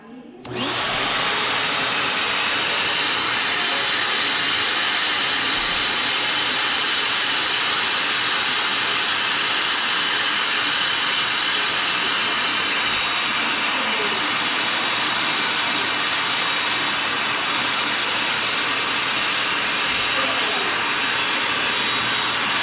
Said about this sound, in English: going with this vacuum system saves a whole lot of time